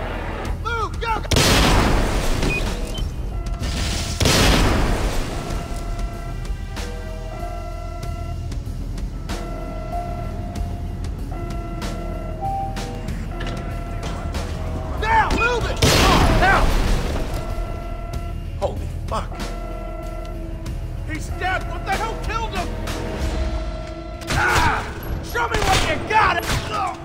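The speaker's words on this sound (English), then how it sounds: "That would be a grenade, my friend" Grenade explosion in the video game Splinter Cell Conviction: heavy booming blasts rise out of a dense stretch of gunfire and combat noise, with a few loud bursts spread across the clip and voices shouting among them.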